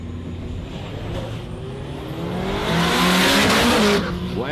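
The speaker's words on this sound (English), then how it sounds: "lighting the tyres up on the Hilux there on the leaf" Toyota Hilux with a 3RZ engine spins its tyres at Warwick Dragway, engine revving hard as the tyres squeal and scrub, rising to a loud peak before easing off.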